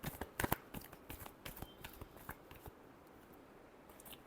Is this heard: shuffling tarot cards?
yes